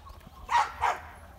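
A Labrador in Malihabad gives two clear, close barks about a third of a second apart, loud against a quiet outdoor background.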